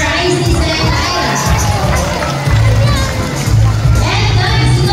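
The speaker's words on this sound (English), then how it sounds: "How about more of applause for Isis and Ira?" A crowd of children and adults cheers, shouts and claps for two sea lions at a marine animal show. The sound is loud, busy and excited, with a low rumbling thud recurring beneath the crowd noise.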